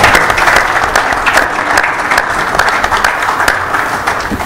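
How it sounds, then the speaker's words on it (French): Loud, sustained applause from an audience at a book launch held with a church gathering, many hands clapping in a continuous, close, even wash that holds steady throughout. "Nous pouvons applaudir pour la gloire du Seigneur."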